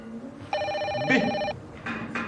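A telephone bell rings in one steady, loud burst of about a second inside a room, with brief rustling and voices before and after it.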